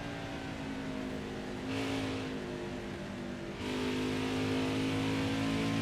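Stock cars racing on the Phoenix oval in NASCAR Heat 5, engines droning steadily and loud, with a surge near the middle as cars get passed and a stronger roar toward the end.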